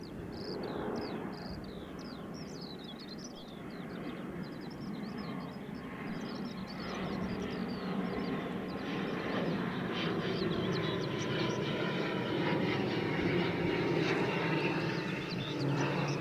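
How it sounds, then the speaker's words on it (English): An Aer Lingus ATR 72 turboprop airliner from Belfast at Edinburgh Airport gives a moderate, continuous engine drone that builds slowly, with chirping birds in the background. "Aer Lingus ATR 72 from Belfast"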